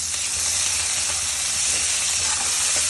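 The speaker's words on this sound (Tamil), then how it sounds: "இப்போது 3 பச்சை மிளகாய் பாதியாக கட் பண்ணது போட்டு வதக்குறேன்." Halved green chilies and coriander with stems sautéing in a pan, a dense unbroken hiss of sizzling oil with faint stirring, close and even throughout.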